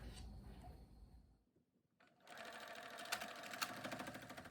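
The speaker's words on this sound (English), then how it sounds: "we're going to go ahead and sew up each side" A sewing machine runs close by, stitching up the sides of a children's fabric face mask. A short whirring run stops briefly, then a steady, faster stitching run follows.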